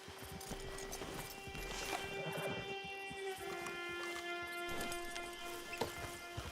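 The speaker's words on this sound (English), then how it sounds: "Get your horse." Horse hooves clip-clop at an easy walking pace in Red Dead Redemption 2 near a camp, steady soft thuds under a faint droning background tone and light ambient noise.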